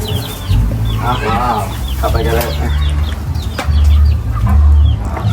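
Chickens at a backyard farm where ducks are also kept, clucking repeatedly in short, close bursts through loud outdoor background noise, while a person talks over them.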